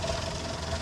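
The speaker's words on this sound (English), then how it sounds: "AC compressor just came on, it almost stalled the engine" A 1999 Honda Acty truck engine runs with a steady, rough rumble as its AC compressor engages and loads it toward stalling, heard briefly and continuously with no talk.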